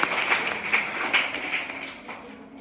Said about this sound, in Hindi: इस पे तो हम लोग ताली बजा रहे हैं।